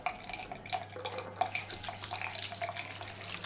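A tap runs steadily while hands are washed under it, giving a continuous close splashing and trickling with small irregular spatters and no voices.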